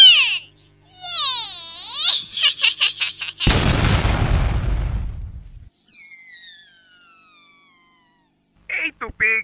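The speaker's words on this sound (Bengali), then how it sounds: "এই দিলাম কামানের টান।" A cartoon cannon fires in Tom and Jerry as one sudden, loud booming blast that rumbles away over a couple of seconds, set between whistling, warbling cartoon sound effects and voices.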